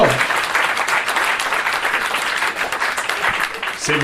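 A live podcast audience claps and applauds steadily for about four seconds, dense broadband clapping filling the room with crowd noise underneath.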